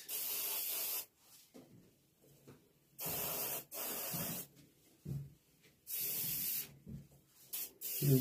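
Airbrush spraying a base coat onto a carved wood duck, heard as three long steady hissing bursts of about a second each, separated by quieter gaps with soft handling noises.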